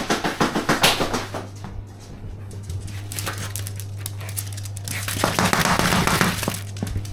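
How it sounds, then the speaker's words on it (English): A sausage dog swings a toy about indoors, producing a string of clattering, crinkling knocks that bunch into louder flurries at the start and end. "She's not doing anything naughty, she's just swinging a toy about."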